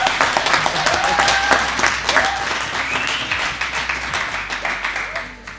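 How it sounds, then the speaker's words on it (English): Wedding guests clapping for the groom during the speeches, a dense round of applause that holds steady, then thins out toward the end. "Can we give him a round of applause"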